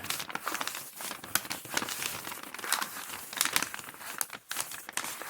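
Packing paper crumpled and crinkled while a parcel is unboxed, a continuous close rustling with sharp crackles and some tearing-like bursts, alone with no talk.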